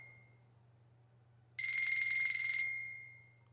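A mobile phone rings in the Japanese horror game Kiryū-senpai to Ore, themed on hitori kakurenbo. A bright electronic ringtone starts suddenly over a low hum, holds steady, then fades away with no talk.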